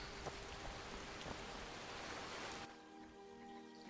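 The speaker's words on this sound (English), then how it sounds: "Now it's raining." Rain falls in the video game Skyrim, a steady hiss of rainfall that cuts off sharply near the end, leaving a quieter low hum.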